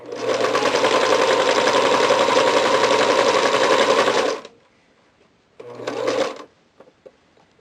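A sewing machine stitches knit fabric and cased elastic for a cloth diaper, running loud and steady for about four seconds, stopping, then a short second burst.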